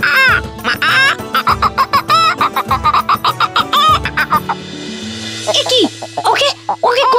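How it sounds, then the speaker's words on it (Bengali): A chicken in an animated Bengali story gives loud, rhythmic clucks in quick repeated bursts over a steady low drone, ending in a few higher squawks. "দিন যায়, মুরগিটা ছোট থেকে বড় হয়।"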